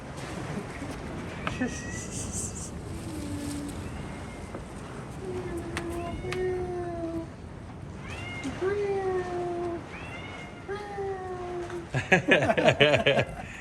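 A cat meows repeatedly, about eight drawn-out calls spaced a second or two apart, over a noisy background with some voices.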